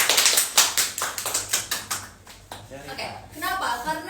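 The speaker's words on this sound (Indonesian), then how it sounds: "Tepuk tangan dulu" Clapping at a fan Q&A event with JKT48 members, a run of distinct loud claps in a quick rhythm that thins out partway through, with voices coming in near the end.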